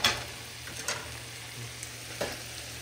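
Fish fries in a pan with garlic, tomato and onion, a soft, steady sizzle broken by a few sharp stirring clicks and scrapes, close and fairly quiet.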